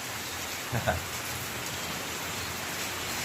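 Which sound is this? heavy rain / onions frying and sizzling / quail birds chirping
heavy rain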